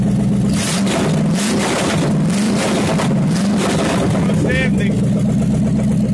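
A Chevrolet 305 V8 fired up for the first time in years, with an oversized carburetor, runs loud and rough and close by, its engine roar steady throughout while people talk over it.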